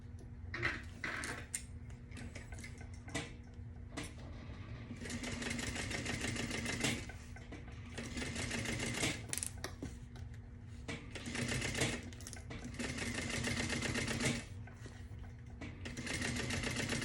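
A sewing machine runs long basting stitches along a tote bag panel in several bursts of rapid mechanical clatter, broken by brief pauses and small clicks, close and fairly quiet with no talking.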